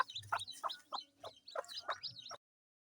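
A mother hen in a village brooding setup clucks in a run of short, regular calls, close and clear, with soft lower grunts between them and no talk.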